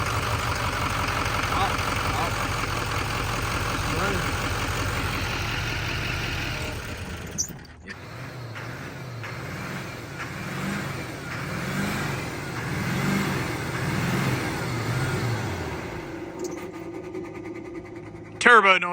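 A Duramax diesel truck engine turns over and runs rough, first a loud, uneven chugging and then a pulsing, surging idle as someone keeps pumping it. Voices talk over the engine in the background.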